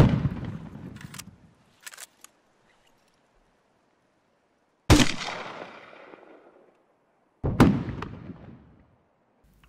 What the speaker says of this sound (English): We'll pop a 203 down there because it sounds cool